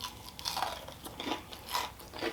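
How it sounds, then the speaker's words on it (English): Bites into a crunchy, still-warm delivered pizza crust topped with Parmesan breadcrumb over a ricotta filling, giving four or five crisp crunches spaced across a couple of seconds, close to the mic and fairly quiet. "Still got good integrity on that crunch."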